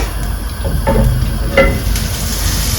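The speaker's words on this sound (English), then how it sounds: "And it's beginning to sizzle now, which is a great sign." Butter sizzles in a hot pan with a steady crackling hiss, with a few soft clinks and stirring sounds along the way.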